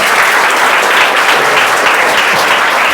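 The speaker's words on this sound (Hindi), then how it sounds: "चलो ताली बजाओ।" Students in a classroom clap for classmates who scored first division on a grammar test, giving steady, dense, loud applause that lasts the whole stretch without letup.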